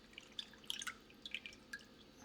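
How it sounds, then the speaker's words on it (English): Water from soaked sea moss drips and trickles while it is strained in a kitchen, quiet irregular droplets falling one after another, close and faint. "So I am now going to strain this water off."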